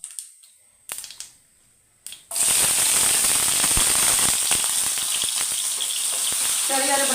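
Shallots, dried red chilies and curry leaves hit hot oil for a tomato curry, starting with a few soft clicks and taps, then bursting into loud, steady, crackling sizzle that continues close and unbroken.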